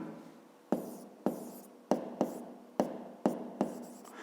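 Close pen strokes on paper while writing out a fifth-grade math problem, about eight short scratchy bursts in an uneven rhythm, each with a crisp onset and quick fade, no talking.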